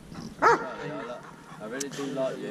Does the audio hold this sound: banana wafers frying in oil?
no